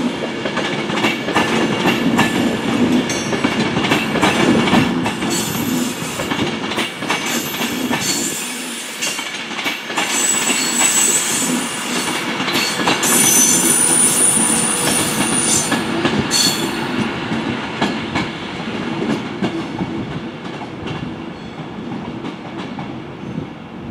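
An Avanti West Coast Class 390 train, unit 390 008, passes close by with a loud, sustained rumble of wheels on rail. Faint high wheel squeal appears briefly midway.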